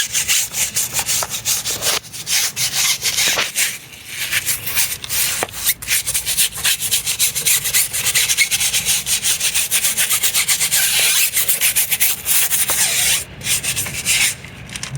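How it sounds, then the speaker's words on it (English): A hard-bristled brush scrubs grime off a car tire during detailing, producing steady, close, rapid back-and-forth rasping strokes with a few short pauses, no voices. "first, hit it with the harder brush. Get all that grime off the tire."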